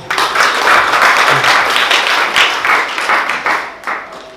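A church congregation claps for God, a dense, steady burst of many hands filling the room at close range for several seconds, tapering slightly toward the end with no voices over it.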